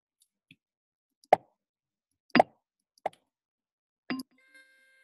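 Four short, sharp pops from a Scratch pop sound effect, spaced unevenly, each a quick bright burst against silence, with a fainter click at the end.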